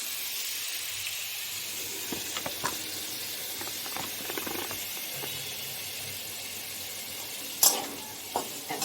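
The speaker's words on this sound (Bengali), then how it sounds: "কুমড়ো ভাজা বসিয়ে দিয়েছি।" Pumpkin slices frying in a pan, a continuous low sizzle of hot oil broken by scattered scrapes and a few sharper knocks of a spatula, close and fairly quiet.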